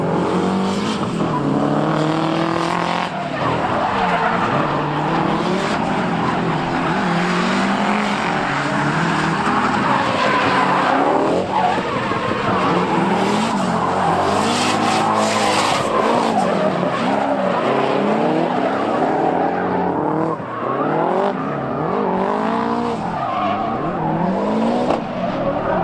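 Drift cars skid through a tandem run, a JZX90-style car against a Corvette at a drift competition special stage, with loud continuous engine roar and sustained tire squeal over the full stretch and brief shouted voices underneath.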